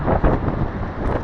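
Wind buffets the microphone outdoors on a freezing, windy day below zero, a loud, steady low roar and rumble with gusty swells throughout, with no one talking.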